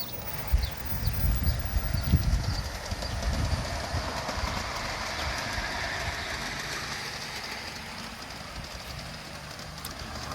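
A model train locomotive runs around its layout track, making a steady close rattling rumble with fine clicking from the wheels. The sound stays fairly even and eases slightly toward the end, with no talking.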